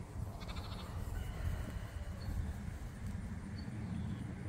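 A sheep out on a homestead pasture bleats faintly in the distance, barely rising over a steady background hum of wind and open-air noise.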